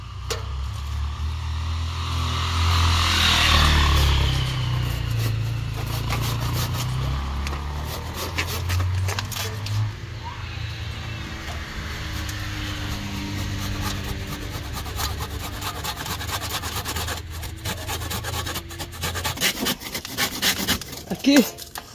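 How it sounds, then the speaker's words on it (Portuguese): A hand saw cutting branches of a plant growing in a bucket, with steady rasping strokes throughout, louder early on and more uneven later, alongside a low engine-like rumble. "E aqui agora eu vou tentar serrar aqui, ó."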